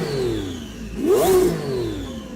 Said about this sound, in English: The Lamborghini Revuelto. It sounds pretty cool with a couple of turbos bolted onto it.